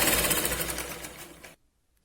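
Sewing machine running steadily while stitching a tuck on a katori blouse, a fast continuous mechanical rattle lasting about a second and a half before stopping abruptly into near silence.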